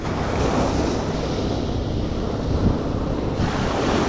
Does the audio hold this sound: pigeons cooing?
no